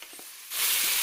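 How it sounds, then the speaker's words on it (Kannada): Sprouted moth beans with salt are stirred in a frying pan. A brief quiet moment gives way to a sudden loud burst of close, broadband sizzling. "ಈಗ ಸ್ವಲ್ಪ ಉಪ್ಪು ಹಾಕಿದ್ದೀನಿ ನೋಡಿ ಚೆನ್ನಾಗಿ ಆಡಿಸ್ಕೊತಾ ಇದ್ದೀನಿ"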